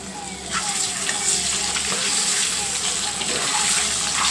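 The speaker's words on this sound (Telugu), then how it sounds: "ఐదు గుడ్లు కలిపి ఒకేసారి ఫ్రై చేసేసుకుంటున్నాను" Five eggs frying together in a pan on the stove give a steady, close sizzle and hiss that runs the whole time without a break.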